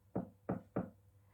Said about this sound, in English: So he knocked the door.